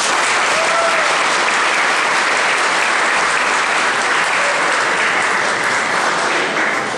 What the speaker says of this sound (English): I think that deserves an applause right there.